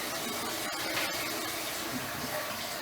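Running tap water splashing steadily over hands being washed, a continuous hissing wash with faint brief knocks, close and moderately loud throughout.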